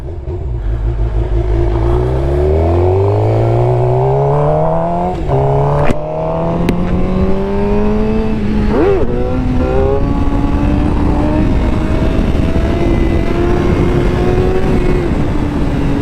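A Suzuki GSX-R750 motorcycle revs hard during wheelies, its engine note climbing and shifting through gears in a loud, continuous roar, close by with no talk.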